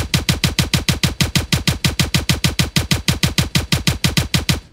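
Rapid automatic fire from a short plasma-shell gun in the video game Zerahypt: a loud, evenly spaced burst of about thirty-five punchy shots, cutting off abruptly at the end.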